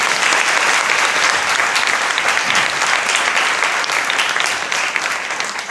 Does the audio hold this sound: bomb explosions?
no